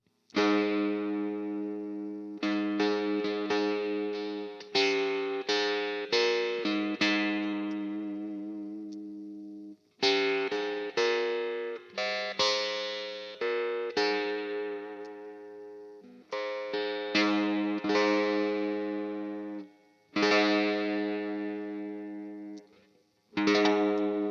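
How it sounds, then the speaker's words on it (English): A guitar through an Ibanez CF-7 chorus/flanger pedal with a metallic, ring-modulated tone plays repeated bursts of notes, each burst sharply attacked and decaying, separated by brief silences. "I want to check out this ring modulation mode"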